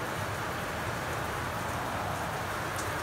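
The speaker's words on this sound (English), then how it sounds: "Oh, it's raining out here. It's a very rainy day." Steady rain falls outdoors on a very rainy day, a continuous dense hiss of drops with no talking.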